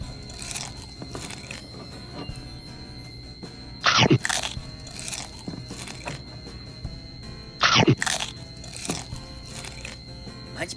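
Skittles Gummies Fuego candy is chewed close to the mic, with two sharp, loud crunching bites standing out amid softer, steady mastication noises.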